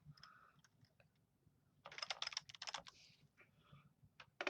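Typing on a computer keyboard in an office, with scattered key clicks early, a dense burst of rapid keystrokes midway, then a few more isolated taps, all close and fairly quiet.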